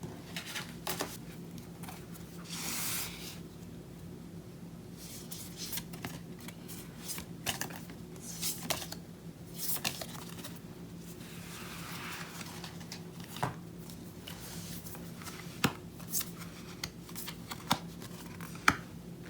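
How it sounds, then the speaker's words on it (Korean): Tarot cards are shuffled and drawn in a quiet room, giving soft papery riffles and light flicks with occasional sharp taps, close and gentle, with no talking. "이 상대방 분은 여러분에 대해서 어떻게 생각하고 있을지 카드를 뽑아보도록 하겠습니다"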